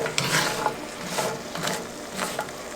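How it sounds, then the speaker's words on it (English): A close, crackling sizzle of maple syrup in a hot pan candying pecans, with scraping and stirring sounds coming in irregular bursts. "You can see and hear the sizzle."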